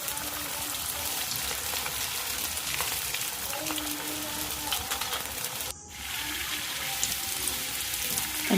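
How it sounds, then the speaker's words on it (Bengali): Rolls deep-frying in oil in a wok, a steady broadband sizzle running throughout with a brief dip partway, no talking. "একে একে সবগুলোকে দিয়ে দেব এবং একটু নেড়ে চেড়ে লাল লাল করে মুচমুচে করে ভেজে তুলব"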